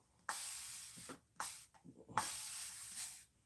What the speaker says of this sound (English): It gives you that super fine mist um, of water that just sinks into your hair